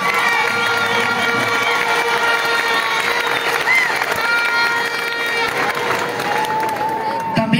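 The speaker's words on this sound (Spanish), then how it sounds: "Y quiero que recibamos a nuestro equipo con un fuerte aplauso." A crowd at a regional championship welcomes its winning team with loud cheering, whistles and shouting voices layered over scattered clapping, a dense, boisterous roar that stays strong throughout.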